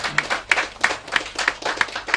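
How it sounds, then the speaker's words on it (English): An audience claps in applause, producing a steady run of sharp, close hand claps at an even rhythm for a couple of seconds, with no talking over it. "So give them a round of applause"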